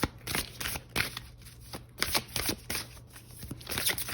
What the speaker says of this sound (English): I'm gonna pull one more card here.